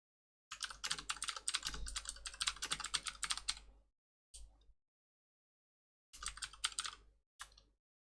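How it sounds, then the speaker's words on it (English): Rapid typing on a computer keyboard: a dense run of crisp key clicks for about three seconds, then a short burst, a pause and two more quick bursts, close and clear with no voices. "I was typing."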